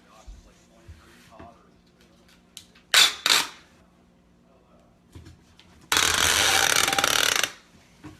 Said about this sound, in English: And then we're just going to tape it like you would any other box.